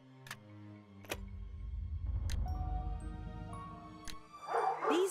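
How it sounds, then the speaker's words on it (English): Dogs barking in the video game Nancy Drew: Ghost Dogs of Moon Lake, with several sharp, loud barks spaced a second or so apart over a low rumbling bed and steady tones, ending in a burst of yelping. "These dogs have been trained to act vicious on command."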